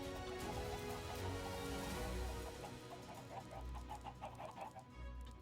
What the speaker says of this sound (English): One zillion chickens.